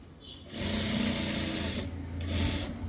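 A sewing machine runs steadily for most of the span, stitching fabric at a tailoring class, with a brief pause before the stitching resumes, close and fairly loud.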